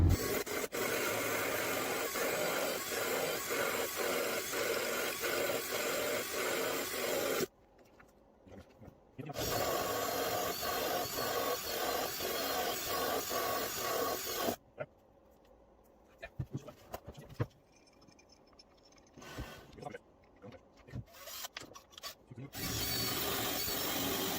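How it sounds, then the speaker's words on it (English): A hole saw grinds steadily through material in long bursts, pausing twice for stretches of near quiet before cutting resumes. "I will drill the holes with using a hole saw."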